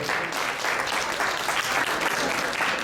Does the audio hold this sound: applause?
yes